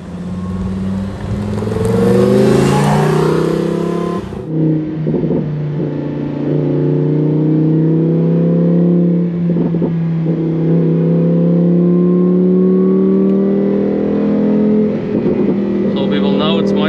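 An 850 HP Lamborghini Huracan Performante accelerates hard from inside the cabin, engine note climbing loudly through rising gears with shifts, and someone talks over the start of the run.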